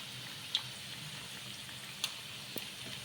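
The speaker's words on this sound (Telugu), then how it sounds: "వెంటనే కదపకూడదు ఇలా వేసినాక ఒక నిమిషం పాటు ఇలాగే వేయించుకొని తర్వాత ఇంకో సైడ్ అయితే తిప్పేసుకోవాలండి" Peanut and rice vadas fry in hot oil with a soft, steady sizzle, quiet and close, broken by a few faint clicks.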